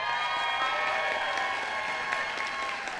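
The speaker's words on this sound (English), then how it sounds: "Let's give her a round of applause." Steady applause from an audience at a doctoral hooding ceremony, continuous clapping at moderate volume across the whole stretch.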